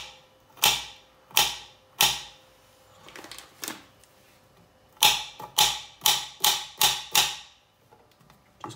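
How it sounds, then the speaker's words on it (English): A knife chops through corn on a board for a home-cooked beef tikka masala curry, sharp distinct strikes: three spaced cuts, a pause, then a quicker run of about six, close and clear. "So what I'm gonna do is cut the corn like that."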